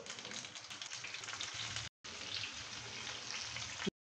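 Patra rolls laid into a hot oil tempering of mustard seeds, sesame and chillies fry with a dense, even sizzle, broken by a brief silent gap midway, then cut off abruptly.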